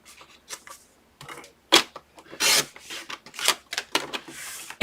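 A blade drags across a baking surface in short, repeated scratchy strokes, a series of close, dry rasping scores at half an inch along the short side, with pauses between strokes.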